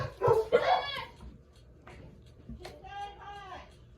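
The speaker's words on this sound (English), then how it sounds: "You're not like them. Don't bark like them." A dog barks and whimpers in short yelping bursts, then a few softer whining calls follow after a pause, fairly close and clear.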